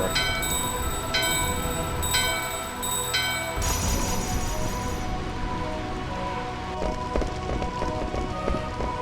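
A bell rung in the Final Fantasy IX video game chimes four times in a steady series, each ring leaving a bright sustained tone over a constant rain-like hiss that continues alone afterward.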